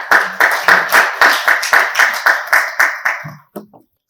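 Loud, rhythmic clapping close by from a conference audience, about a dozen evenly spaced claps that slow and trail off into a few scattered final claps.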